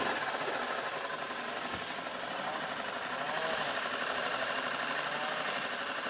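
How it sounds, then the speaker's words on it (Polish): A river boat's engine runs steadily in reverse on the Vistula, a continuous mid-pitched mechanical drone with faint knocking and water noise, no voices. "Silnik na wstecznym."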